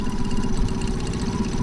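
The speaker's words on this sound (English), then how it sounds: "beautiful sound of a Honda 4-stroke 20 horsepower engine" A Honda 4-stroke 20 horsepower outboard engine on a boat runs steadily nearby, giving a continuous low rumbling drone with no talking.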